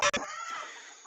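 A village rooster and free-range hens give brief, close clucking calls, a short sharp burst followed by softer trailing clucks.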